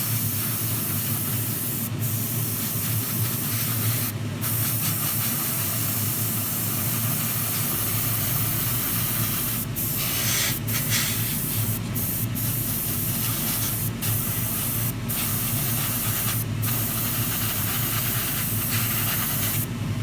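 Aerosol paint hisses steadily and close on 1:24 Tamiya Ferrari LaFerrari model car parts for the whole stretch, a continuous spray with brief pauses and faint clicks between passes.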